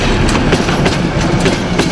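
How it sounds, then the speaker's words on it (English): Trains pass at a busy railway junction in Slovakia, a loud, steady rumble with rhythmic clickety-clack of wheels over rail joints, close by and without talking. "it's worth noticing all the number of trains that are going backwards and forwards behind me"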